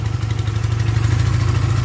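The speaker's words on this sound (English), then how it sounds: "Finally idling. I got the choke in the position it idles at" An engine settles into a steady idle after a long choke startup, a continuous loud low rumble with even clattering pulses, close by and with no voices.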